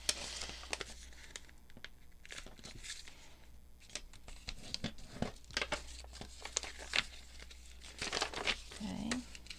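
Paper being folded and creased by hand for a junk journal fold-and-tuck pocket, with irregular crinkling, rustling and sharp crackles spread throughout, fairly close and continuous.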